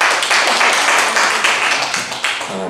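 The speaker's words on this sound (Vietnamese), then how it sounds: "cho xin một tràng pháo tay khích lệ." An audience at a Sunday school gathering claps together in sustained, dense applause that holds steady and close for the whole stretch, with no voices over it.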